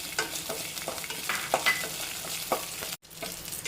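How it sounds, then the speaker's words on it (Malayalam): Raisins frying in hot ghee with a crackling, popping sizzle, stirred in short bursts close up and fairly quiet. "ഇനി ഇതിലേക്ക് റേസിൻസ് ഉണക്കമുന്തിരി അത് ഇട്ട് കൊടുക്കാം"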